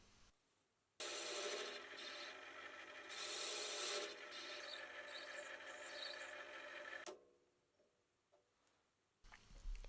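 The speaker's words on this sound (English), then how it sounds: "Now I just had to turn away the excess material on the lathe." A lathe turns away excess material on a rusty chuck part. A loud, steady scraping cut starts abruptly, runs with bright high squeals for several seconds, then drops off to quiet.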